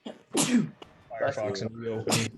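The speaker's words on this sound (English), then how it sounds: "Bless you." A single sharp sneeze bursts out close to the microphone in the middle of casual speech, with a person talking just before and after it.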